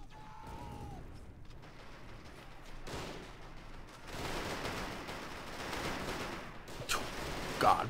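Gunfire and battle noise in the Men of War Assault Squad 2 strategy game, with scattered shots and bursts heard at a distance over a rumbling background that grows louder toward the end.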